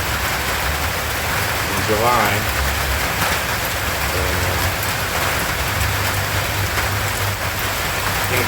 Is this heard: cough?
no